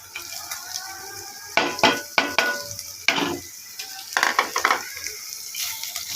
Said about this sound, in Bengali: এখন এগুলোকে ভালোভাবে ভেজে নিতে হবে আমাদেরকে।